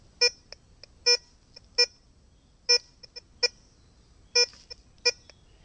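A Tejon metal detector with a 22 cm or 15 cm DD coil gives clear, bright beeps over an iron nail, about seven strong tones in an uneven rhythm with softer short blips between them, close and alone over a quiet background.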